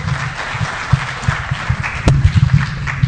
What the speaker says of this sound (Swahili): Tumpigie makofi kidogo